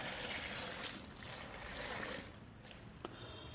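Water pours steadily into a fruit enzyme mix inside an ecobin composter, a continuous close splashing rush that thins out near the end, with no voices.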